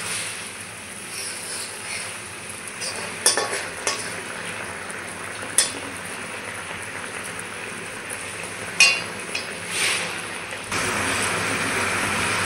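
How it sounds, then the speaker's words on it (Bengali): Raw papaya pieces cook in boiling sugar syrup for a murabba, bubbling and sizzling softly and steadily, broken by a few sharp clinks of a utensil against the pot. "চিনির রসে কত সুন্দর টকবক করে ফুটে উঠেছে পেঁপেগুলো"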